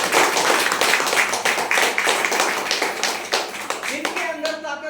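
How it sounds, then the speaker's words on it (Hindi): A live audience gives loud, sustained applause at a promotional event for the RCM system, dense clapping throughout with the crowd noise thinning toward the end. "एक जोरदार ताली इनके लिए बजाइए"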